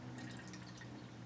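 Relax Pink Rosé, a Spanish rosé wine, pours into a glass. A short, steady liquid trickle sits close to the microphone over a low background hum, with no talking.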